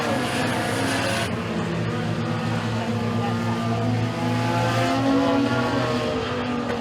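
Race cars roar together as a heat race gets underway at Eriez Speedway, a loud sustained engine drone with rising pitch as the pack accelerates.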